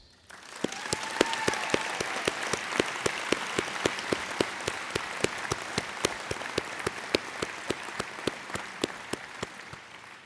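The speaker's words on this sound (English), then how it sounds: "please help me give them a large round of applause" A graduation audience applauds for parents at a college ceremony, with one clap standing out in a steady beat over a dense, sustained wash of crowd clapping that lasts throughout at moderate level.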